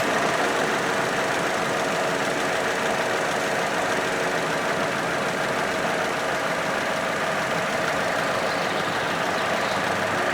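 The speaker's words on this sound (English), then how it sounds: "There's our fan spinning." The cooling fan of a Vauxhall Corsa D spins with the engine running, a loud, constant, close whooshing hum over a steady engine drone, unchanging throughout.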